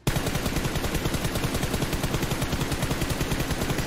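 Rapid automatic gunfire in a shooter video game rattles continuously at close range and high volume, with no speech over it.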